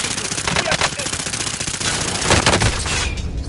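Rapid automatic gunfire rattles continuously through a Call of Duty: Modern Warfare battle, dense bursts with louder volleys near the middle and a brief lull at the end, voices faint beneath.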